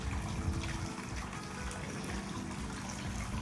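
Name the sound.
Peerless Spring water flowing, Saratoga Springs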